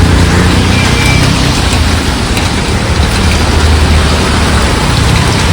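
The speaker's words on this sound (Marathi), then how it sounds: "तर हा पाऊस बघा." Heavy rain pouring down outdoors, a loud, continuous, close wash of drops and splashing with a steady low rumble beneath and no pauses.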